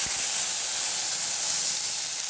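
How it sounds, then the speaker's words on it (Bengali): Water hits hot oil holding freshly fried whole spices for a sour lemon fish curry, producing a loud, steady rushing hiss of steam and sizzle that lasts about two seconds before cutting off abruptly. "ফোড়নটা ভাজা হয়ে গেছে, এর মধ্যে আমি জল দিয়ে দেব।"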